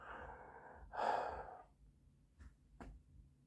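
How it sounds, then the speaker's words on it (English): A man yawns once during a travel vlog at Stratford: a long, breathy, close-up exhale that swells loudest midway, then fades into a few soft clicks and quiet breaths. "I'm going to yawn again."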